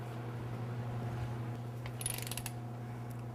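A ratchet clicks in a short quick run while torquing the main bearing cap bolts on a turbo Oldsmobile V8 engine build, heard over a steady low mechanical hum.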